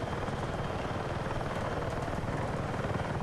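Rotor chop and steady engine roar of a helicopter in the Battlefield 6 video game, a loud, continuous thrumming drone close by, with no talk over it.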